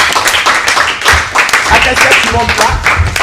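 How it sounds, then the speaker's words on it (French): Applause for a contestant at a school spelling contest, a dense burst of clapping from a group filling the short stretch, loud and close throughout. "On l'applaudit très très très fort."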